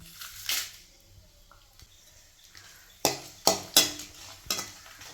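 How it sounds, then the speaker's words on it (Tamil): Dried red chillies fry in rice bran oil in a kadai under a faint, low sizzle. A few loud metal scrapes and clanks of a ladle against the pan punctuate it, most of them bunched near the end. "வரமிளகாய் நல்லா வறுபட்டுடுச்சு, இதை எடுத்துக்கலாம்."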